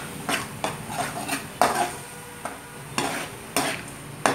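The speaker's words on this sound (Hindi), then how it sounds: "अब हम प्याज को अच्छे से भून लेंगे।" Onions frying with salt, turmeric and red chilli for Punjabi chhole masala, stirred with a spoon that scrapes and clinks against the pan in irregular strokes over a continuous sizzle, no talking.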